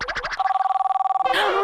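A telephone ringing with a fast warbling electronic trill, loud and close, pulsing steadily for about a second after a brief spoken phrase and before another voice cuts in.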